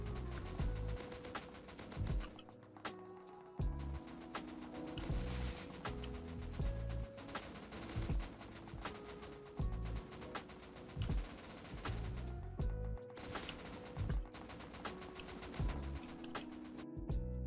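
AK-47 in the Rust video game fired while moving, loud dense bursts of rapid automatic shots repeating in quick succession with short gaps between strings, close and alone.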